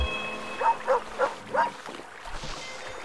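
A dog in the Superbrothers: Sword & Sworcery EP video game gives a run of about four short, evenly spaced barks at moderate volume over a soft ambient backdrop.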